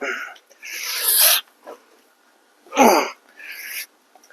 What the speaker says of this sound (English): Sorry about all the yawning.